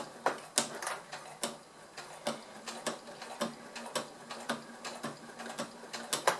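Sewing machine stitching slowly through faux leather for a small shoulder bag, an uneven run of sharp mechanical ticks and needle thumps, close and fairly quiet with no talking.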